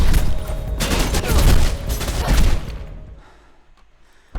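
Dense, loud bursts of enemy gunfire in the video game Mirror's Edge: rapid overlapping shots that roll continuously for about two and a half seconds, then thin out and fade, with one more sharp report right at the end.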